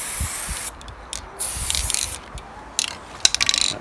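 A spray paint can emptying its nozzle while colour-matching printer parts outdoors, several short hissing bursts separated by gaps, close and fairly loud, with light handling clicks and scrapes in between.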